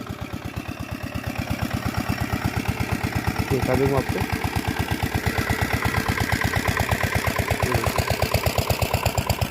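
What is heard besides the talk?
diesel engine running for farm irrigation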